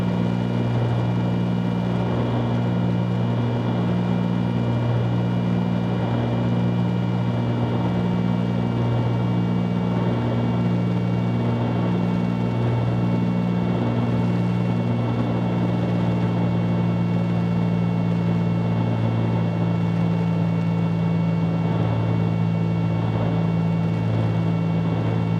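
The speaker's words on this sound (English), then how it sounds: "I've got the props turning at about 2400 RPM" Steady twin-engine propeller drone inside the cabin of a Cessna C310 in cruise flight, props near 2400 RPM, a constant loud hum with a slow beating throb and no talk.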